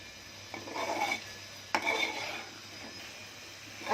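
A spatula scrapes and stirs in a pan in two rasping strokes as masala is dry-cooked with eggs for Konkani egg bhurji, fairly quiet with a steady background hum.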